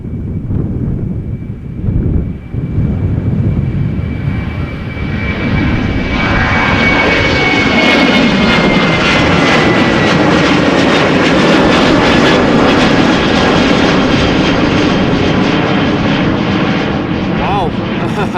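A Boeing 777 jet departing runway 36L at Amsterdam Schiphol bound for Curaçao, its engines a loud, steady roar that builds and holds, with a whine audible early on, heard close by from outdoors.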